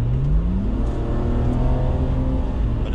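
Mercedes-Benz M110 engine revving hard in second gear, a loud, steady, close mechanical roar with rising pitch near the start and continuous whirring, no voices.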